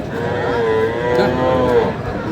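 Cattle low loudly at a busy livestock market in Dinajpur where Friesian and crossbred bull calves are traded; one long, sustained moo dominates, close by, over a steady murmur of the crowd.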